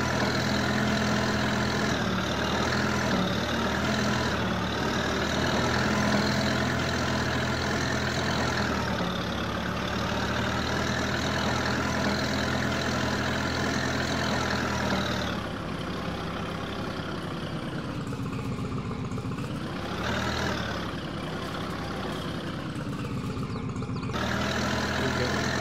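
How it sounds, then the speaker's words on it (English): A tractor engine from the farming game Farming Simulator 22 idles steadily and evenly for a long stretch, with a slight dip and rise in pitch partway through and no talking. "The way this tractor sounds."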